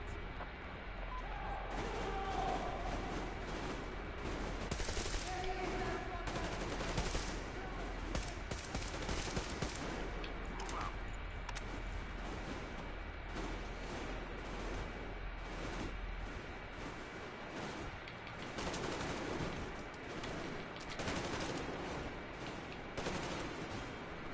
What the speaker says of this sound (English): Covering fire for the Colonel. No saving ammo.